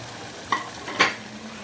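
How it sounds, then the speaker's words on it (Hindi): Chicken kebabs in masala are stirred in a pan, two short scraping strokes over a soft sizzle, close and without talk. "और इनको हम अच्छे से इस टाइम पे भूनेंगे तकरीबन 4 से 5 मिनट"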